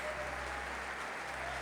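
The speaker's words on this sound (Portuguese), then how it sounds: "dá um aplauso a Ele" Steady congregational applause inside a church, a dense and continuous sound of many people clapping together at moderate distance, with a low hum underneath and no speech.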